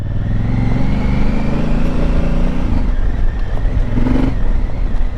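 A Honda Africa Twin motorcycle ridden off-road sounds a loud, close engine drone with a rising and falling pitch as the rider works the throttle, and a brief surge toward the end.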